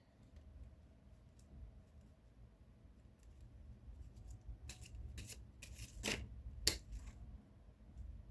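Lenormand cards being shuffled during a divination reading, heard as a quiet stretch followed by a few faint, brisk riffling bursts near the end.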